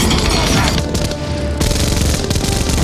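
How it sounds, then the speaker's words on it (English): A minigun in the film Terminator 2 fires rapidly, producing a loud, continuous roaring stream of shots with dense rattling bursts and booming low end throughout. "how many rounds exactly does the gun fire because it seems like an insane amount of firepower coming from the barrel"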